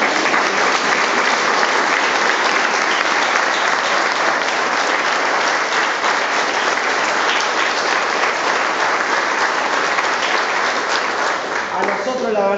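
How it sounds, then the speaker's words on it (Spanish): An audience at a ceremony for new retirees in Malvinas Argentinas bursts into strong applause. Thick, even clapping fills about twelve seconds at a loud, steady level and eases slightly at the very end. "yo creo que se merecen un fuerte aplauso"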